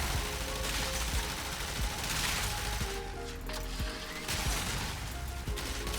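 Mausolon, a Crux-built non-beam weapon in Warframe, firing in repeated shots that form a steady loud stream of impacts over continuous game noise, with no voices.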